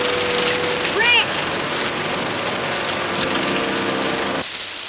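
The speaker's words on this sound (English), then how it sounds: "There's your rain, but good." Heavy rain pours down in a continuous dense hiss, with a brief whooshing swell near the start before easing slightly at the end.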